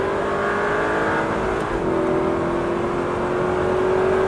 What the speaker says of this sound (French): Et puis là, tu peux accélérer franchement, profite de la ligne droite, profite de la puissance du moteur.